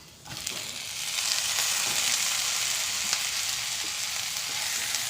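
Chopped tomatoes hit a hot pan for chutney, and a loud hissing sizzle swells up within the first second and holds steady and close, with faint stirring clicks and no talking.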